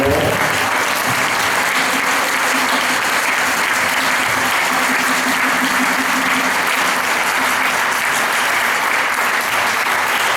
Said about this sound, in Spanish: recibe también tu aplauso del público